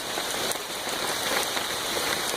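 Rain pours down steadily during a rainstorm, a dense, even hiss of drops hitting surfaces, loud and continuous with no voices.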